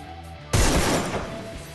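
Burst of gunfire from the Free Fire mobile battle royale game, a sudden loud broadband blast that hits hard and then trails into a sustained, dense rattle of shots without talk.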